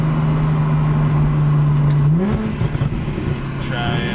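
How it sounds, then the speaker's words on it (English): BMW 335i with the N54 engine converted to a single turbo, accelerating in second gear from inside the car: a steady loud engine drone that rises in pitch partway through, then settles into rougher noise with faint high turbo whistles. "That turbo sound at the end,"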